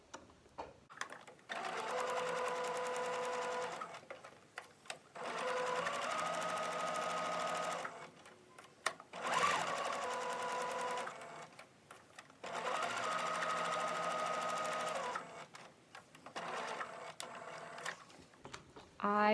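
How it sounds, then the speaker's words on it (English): A sewing machine stitches around the edge of a card stock gift tag, running in several long, steady bursts separated by short pauses, close and loud. "You put wrong sides together, and we'll sew around the edge."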